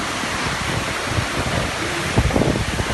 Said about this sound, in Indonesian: Angin kencang di daerah Jalan Pemuda, Kota Bojonegoro.